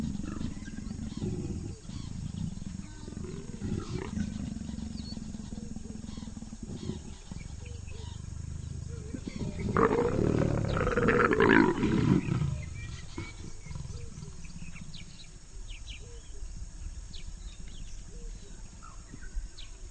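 Leopards growling and roaring during an aggressive mating in thick grass; a low rumbling growl runs throughout, building to a louder, harsher snarling burst midway before easing back down.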